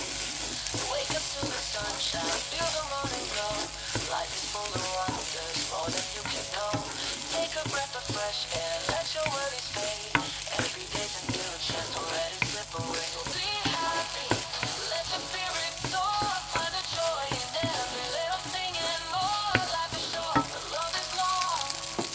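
Fried rice stir-fried in a hot pan with a splash of dark soy sauce, giving a steady close sizzle and crackle throughout, broken by scraping and clacking of a spatula against the pan.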